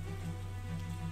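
Steady rain falls in the video game Banner of the Maid, a soft, even hiss of drops with no voices.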